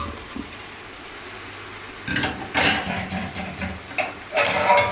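Onion and garlic frying in a pot: quiet low background at first, then sizzling bursts with scattered clinks and stirring that swell and recur.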